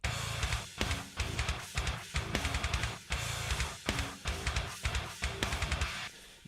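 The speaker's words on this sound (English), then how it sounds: "You can hear the guitars are really narrow when they're unpanned" A rock demo mix with guitars left unpanned so they sit narrow in the centre, playing a loud, driving pattern with regular accents, kick and snare hits, and steady dense chords throughout.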